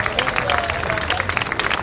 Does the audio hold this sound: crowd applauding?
yes